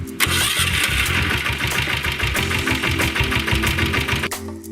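A motorbike engine starts up and settles into a loud, rapid, chugging idle close by, then cuts off abruptly near the end.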